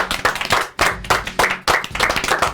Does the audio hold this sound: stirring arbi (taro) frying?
no